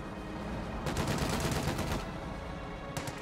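Dense rattling gunfire during a World War II video game battle, with bursts of automatic fire over a steady low rumble of combat, fading and then returning in short volleys.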